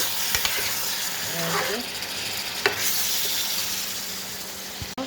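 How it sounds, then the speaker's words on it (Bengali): Pieces of snakehead fish sauté in a hot pan with a continuous sizzle, broken by occasional scraping and clinking as they are stirred close up. "শোল মাছটাকে কষিয়ে নিচ্ছি একটু।"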